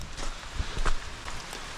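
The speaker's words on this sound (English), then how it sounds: "It is raining and the sun is going down." Steady rain patters down with soft broadband hiss, a few louder drops standing out briefly.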